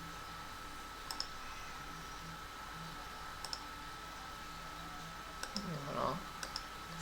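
Computer keyboard typing during PHP coding, a few sparse, faint clicks and short key bursts heard close, with low background hum and a soft thump near the end.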